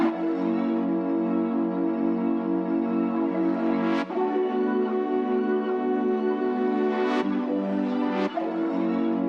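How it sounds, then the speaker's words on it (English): A smooth chord melody loop from the Tonal Sound Experience sample pack plays alone, sustained tonal chords shifting at a relaxed pace with a few soft transient accents along the way. "this little melody loop in this pack called Tonal Sound Experience"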